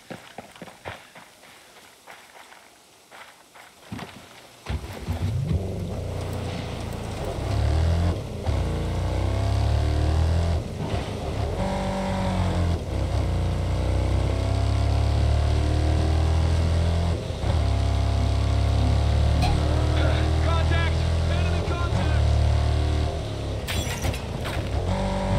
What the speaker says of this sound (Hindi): चलिए आइए गाड़ी से निकलते हैं।